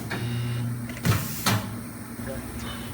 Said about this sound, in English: Every time I step on the pedal I get a weld.